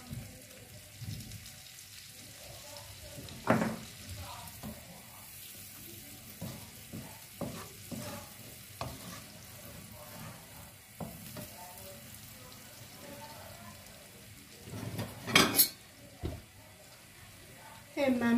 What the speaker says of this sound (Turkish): Güzelce salçam kavruldu kızlar.